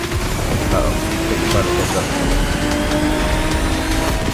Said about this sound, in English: I can literally rip the handbrake and I can just start sliding